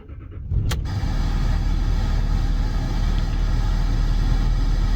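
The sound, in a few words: Land Rover Discovery engine starting in cold weather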